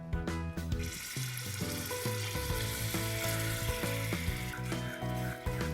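Honey and oil sizzle in a hot pan, a continuous crackling hiss with a steady tonal hum underneath.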